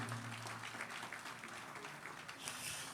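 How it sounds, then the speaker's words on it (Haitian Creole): An audience applauds at an evening music event, a steady, fairly faint wash of clapping that holds for a few seconds. "Encore vos applaudissements."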